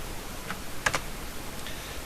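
Soft keystrokes on a computer keyboard while entering a control code in AutoCAD: a few quick, faint clicks clustered together over a steady background hiss.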